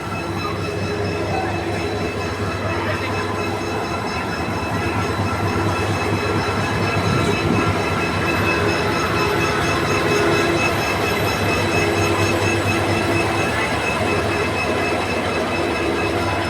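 A passenger train running from Dhaka to Mymensingh, heard from inside a carriage, gives a steady rumble with rhythmic wheel clatter and faint squealing for the whole stretch, loud and continuous.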